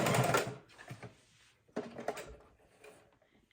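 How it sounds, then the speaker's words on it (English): A sewing machine stitches fabric for a fabric soup bowl in short quiet bursts: a busier run at the start, a pause, then a second brief run, with faint clicks between. "So we're going to go ahead and sew that."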